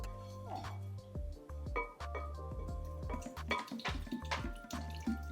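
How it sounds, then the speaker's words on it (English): Water beads being poured into a container make rapid, scattered clicks, taps and drips as they bounce and land, close and continuous over a faint low hum. "Let's start adding some of the water beads and get this project started."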